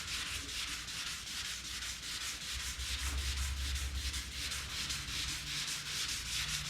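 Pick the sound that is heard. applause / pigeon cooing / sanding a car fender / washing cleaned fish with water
sanding a car fender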